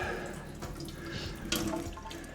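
Water drained from a batch of soaked smoking wood at an outdoor barbecue, a steady splashing trickle with small drips running throughout the short stretch, fairly close and moderately loud.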